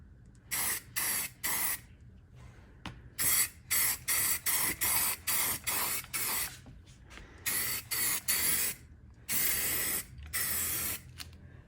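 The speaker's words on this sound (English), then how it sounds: "don't spray at an angle" Short, repeated bursts of spray paint hiss onto furniture, about a dozen close, loud sprays of one or two seconds each separated by brief quiet gaps.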